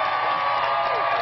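A large rally crowd cheers and applauds in a steady, dense wash of noise, loud and continuous across the brief moment, with speech faintly mixed in.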